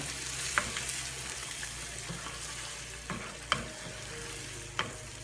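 Curry goat cooks in its gravy in a pot, giving a soft, steady sizzle and bubble with a few sharp spoon clinks against the pot.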